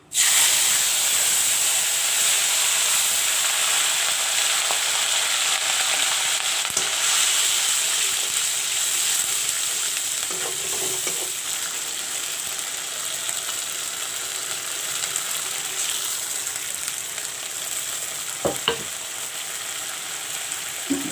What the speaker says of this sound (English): Put some turmeric powder and I will fry the masalas.